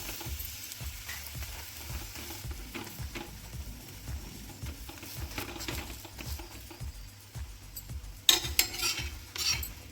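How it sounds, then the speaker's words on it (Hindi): A green pea paratha fries in ghee on a pan with a soft, steady sizzle, broken by light clinks and scrapes as it is flipped, with a louder clatter near the end. "इसी तरह से पलटते हुए पराठे को सेक लेंगे।"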